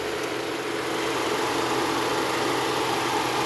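A 2019 Jeep Compass Trailhawk's 2.4-liter four-cylinder engine idles roughly, a steady low hum and drone close by that holds unchanged throughout, with no voices.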